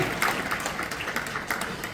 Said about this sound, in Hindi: जोरदार ताली बजा करके इस भाव को भी ला